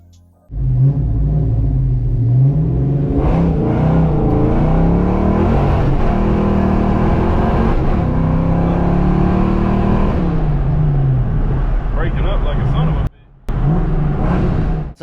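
A hot Ford Foxbody V8 is held at high revs around 4,500 to 5,000 RPM, a loud droning roar that wavers and stumbles, then cuts out briefly before roaring again.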